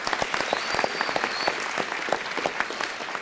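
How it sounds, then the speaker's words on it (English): A round of applause from the audience at a city council meeting, with distinct individual claps standing out over a broad wash of clapping, steady and fairly close for the whole stretch. "Larry, nice round of applause for Larry."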